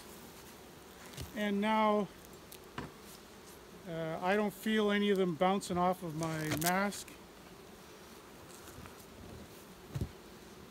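Bees buzz in bursts at close range, with a person speaking briefly between the buzzing passages.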